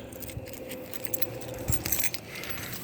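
Keys on a 1961 Comet's key ring jangle briefly and lightly up close, with a few small metallic clinks scattered over a few seconds, quiet and with no talking.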